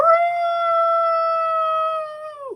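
A long high-pitched werewolf howl, a single sustained tonal wail held steady for over two seconds before dropping off sharply; it sounds like a voice imitating the howl.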